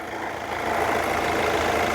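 A vehicle engine runs at a steady idle, a continuous rumbling drone close by.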